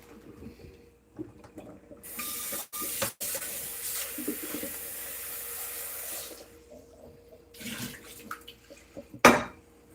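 Water from a cooking pot pours out in a kitchen while making manicotti, a steady splashing rush that swells for a few seconds then tapers, with clattering metal knocks and a sharp clank near the end.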